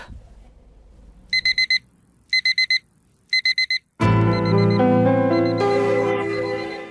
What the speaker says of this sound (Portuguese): E às vezes, só um despertador não adianta.